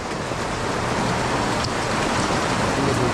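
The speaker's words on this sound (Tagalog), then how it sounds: "Umuulan, eh." Heavy rain falls steadily during a typhoon, a dense continuous hiss of drops on surfaces that stays loud and even throughout with no voices over it.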